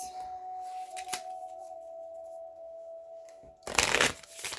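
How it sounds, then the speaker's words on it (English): Island Time Wellness oracle cards being shuffled: a short, dense riffle of card flutter near the end, close and fairly loud over a faint steady hum, with no talking. "Now I'm going to choose a couple of the Island Time Wellness cards."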